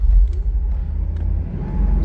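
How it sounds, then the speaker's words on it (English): Mercedes-Benz R129 engine, revived after ten years unused, starts and revs in a deep rumbling burst, close and loud, with the revs rising and easing over a couple of seconds. "Starts up fine, revs fine."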